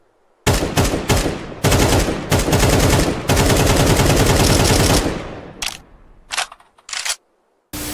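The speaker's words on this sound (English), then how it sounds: "Okay, straight into the AK, so-called AK-47, which is not an AK-47." AK rifle gunfire from Counter-Strike 2: rapid automatic bursts, several long strings of loud, close shots, then a few short separate bursts near the end.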